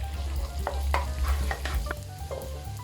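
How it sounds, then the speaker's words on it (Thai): Garlic stir-fried in hot beef oil in a pan, with a steady close sizzle and repeated scraping strokes of a spatula through the whole stretch. "พอน้ำมันร้อนใส่กระเทียมลงไปผัดเลยค่ะ"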